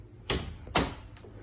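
An apartment room door opens with three sharp knocks and clunks of its latch and frame, close and fairly loud against a quiet room.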